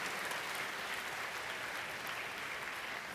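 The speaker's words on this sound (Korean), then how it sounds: "여러분께 박수로 환영하시죠." A church congregation applauds to welcome people after a prayer, a steady, even wash of clapping that fills the room without a break for a few seconds.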